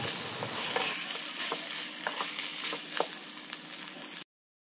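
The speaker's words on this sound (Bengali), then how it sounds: "ভেজে নেওয়া হয়ে গেলে দিয়ে দেব মেখে রাখা মাংস" Marinated chicken sizzles steadily in a pan, a dense broadband frying hiss with intermittent clinks and scrapes of stirring, close and fairly loud, cutting off abruptly near the end; no one speaks.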